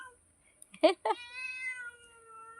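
A small kitten gives a couple of short squeaks followed by one drawn-out, rising and falling meow, close and clear against quiet surroundings.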